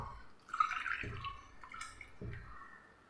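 Coconut milk from a grated coconut poured into a mixer jar, giving a soft, faint liquid trickle and light splashing over about three seconds, close by with no voices.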